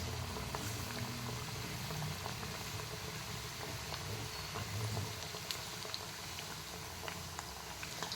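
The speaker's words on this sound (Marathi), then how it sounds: "समोसे अगदी लो फ्लेमवर आपल्याला ह्याला छान असे तळून घ्यायचे आहेत" Samosas deep-fry in oil over a low flame, giving a continuous soft bubbling and gentle sizzle with occasional small pops, steady and close.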